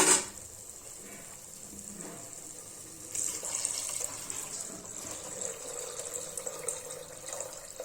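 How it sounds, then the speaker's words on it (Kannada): Water poured into a pot of rice for menthya bath, a continuous soft splashing fill, quiet at first and a little fuller from midway, with no talking. "ಈಗ ನೀರು ಹಾಕೊಳ್ಳೋಣ."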